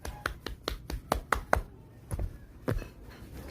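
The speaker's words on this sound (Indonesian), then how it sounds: "Tepuk tangan untuk Ismi dan Mentari." Students in an Indonesian classroom clap together in a short, uneven burst of sharp hand claps, about a dozen distinct strikes close by, pausing briefly before a few more claps trail off.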